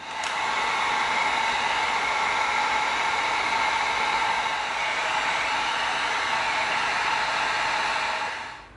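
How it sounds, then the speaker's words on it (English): A heat gun blows steadily on EVA foam during heat sealing, a loud continuous hissing roar that holds evenly for about eight seconds before cutting off, with no talking. "now when we heat seal this, not only is it gonna tighten the foam up"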